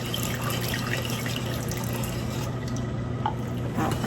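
Milk streams slowly into a pan while being stirred for no-bake pecan coconut praline cookies, making a steady, continuous close pouring and trickling wash with little variation throughout.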